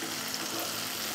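Onions and tomatoes sauté in a pan for seafood gravy, a brief steady hissing sizzle, close and even, with no speech.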